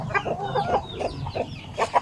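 A large hen, an Asil-type chicken, clucking in a series of short, close, fairly loud clucks, with a couple of sharper calls near the end.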